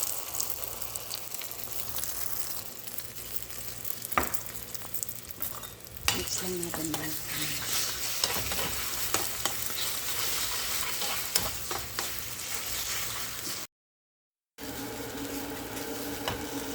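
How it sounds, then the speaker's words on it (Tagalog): An egg fries in a pan of oil left from frying hotdogs, with a close, steady crackling sizzle, occasional utensil scrapes, a louder burst of spattering midway and a brief dropout near the end. "Sa pinagprituhan ng hotdog, lagay natin yung ating egg."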